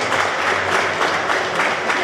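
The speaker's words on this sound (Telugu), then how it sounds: "గట్టిగా చప్పట్లు పట్టాలి." Dense, steady applause from a crowd at a national road safety celebration at a bus depot in Nizamabad, honouring accident-free bus drivers. It is loud and continuous throughout, with a faint voice under the clapping.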